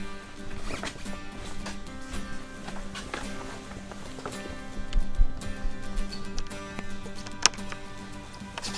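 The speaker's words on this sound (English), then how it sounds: "Start this zipper here." A zipper on the cover of a Regal 38 SAV center console boat rasps in short pulls amid rustling and handling noises, with a few clicks and knocks close by.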